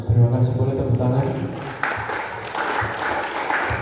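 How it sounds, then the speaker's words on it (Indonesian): An audience at a school leadership training event breaks into applause, a burst of close clapping that follows a voice at the start and continues steadily to the end. "Boleh tepuk tangan"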